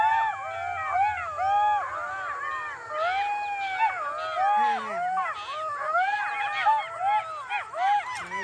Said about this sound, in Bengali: জঙ্গলের শিয়ালের আওয়াজ